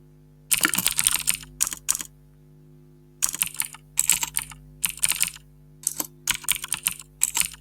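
Code being typed on a computer keyboard, close and crisp, in quick bursts of clicking keystrokes separated by short pauses and one longer silent gap.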